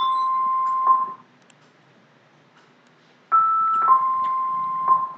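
An electronic buzzer sounds a doorbell-like two-tone chime, a long steady tone, a pause of silence, then more tones stepping between pitches, loud and close with no voices.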